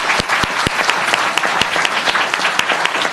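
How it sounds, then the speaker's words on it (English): An audience at a foundation conference session claps steadily for a speaker, the applause dense and sustained with a few sharp, close claps standing out. "Let's get a big round of applause for Colleen."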